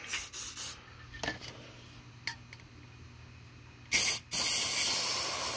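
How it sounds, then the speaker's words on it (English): Can of dry graphite lubricant sprayed into a household fan's bearing, several short hissing bursts followed by a longer sustained spray near the end, close and fairly loud with quiet pauses between. "you can actually take dry graphite and spray it down in there"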